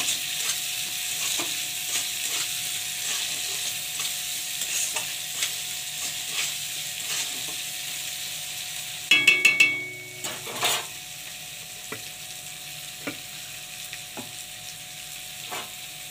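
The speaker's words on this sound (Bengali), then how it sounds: "এবার এইটা একটু ভাজা ভাজা হয়ে আসবে।" Chopped onion and garlic frying in a pan, giving a steady close sizzle with a few sharp metallic stirring scrapes midway and soft clinks, without any talk.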